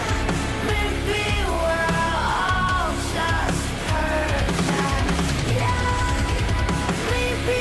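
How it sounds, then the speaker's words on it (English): Layered, multi-tracked screams and a cult-like chanting chorus from a metal song ring out over dense distorted guitars and drums, loud and sustained throughout. "it sounds like they layered her scream multiple times"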